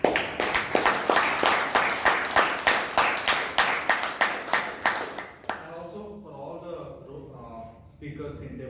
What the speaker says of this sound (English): Let us give a big round of applause to